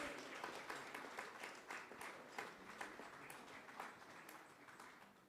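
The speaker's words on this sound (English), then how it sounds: "can we have a big round of applause?" Audience applause at a handicrafts symposium, a steady wash of many hands clapping heard at a modest distance and fairly faint throughout, with no talk over it.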